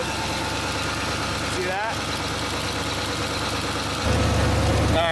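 A Ford Bronco engine idles a little high with a steady, rough rumble that swells louder near the end, while a person speaks briefly over it.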